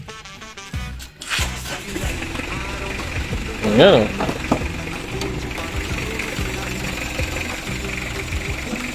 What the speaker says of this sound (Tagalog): Okay, pakita natin yung makina. Start natin, kuya. Sige, start ko na.